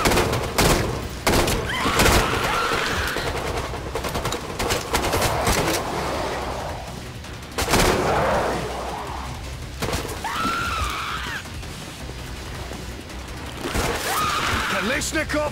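Kalashnikov rifle fire in Killing Floor 2, bursts of rapid shots mixed with heavy thuds and booms over a continuous game din, with voices speaking throughout.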